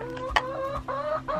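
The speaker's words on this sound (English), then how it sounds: "He's probably a very proud chicken." A hen or rooster clucks repeatedly in a farm coop, a run of short, close, moderately loud calls with a few brief pauses and no talking.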